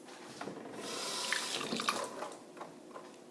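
An onion is rinsed under a running kitchen tap, with a soft, close splashing stream of water that fluctuates gently for a few seconds.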